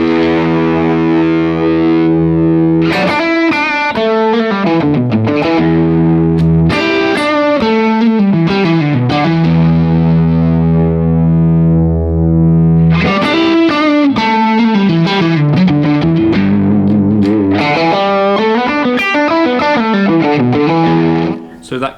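Electric guitar through a J Rockett Melody overdrive pedal with its far slider turned all the way up, a dark, distorted tone playing continuous melodic phrases and chords, loud and upfront with no talking.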